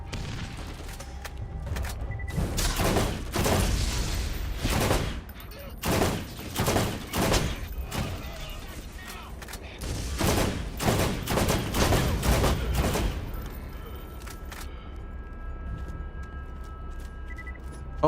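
Heavy gunfire in the video game Borderlands, with loud overlapping bursts and volleys of shots coming in waves for most of the span, then thinning out near the end.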